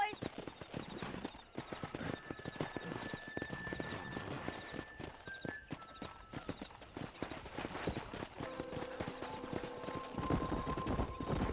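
Several horses trot with a dense, continuous clip-clop of hooves in the Western game Red Dead Redemption, loud and close, with occasional whinnies and sustained musical tones over the hoofbeats.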